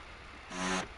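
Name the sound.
Renault F1 car engine in video game F1 25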